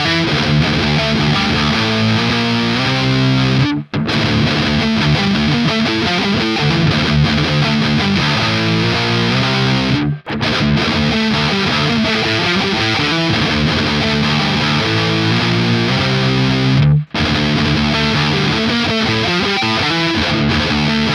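Electric guitar through a high-gain distorted amp tone, dense saturated chords and riffs played loud and continuously, broken by three brief silent gaps.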